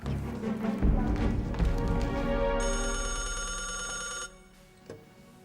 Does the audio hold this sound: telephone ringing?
yes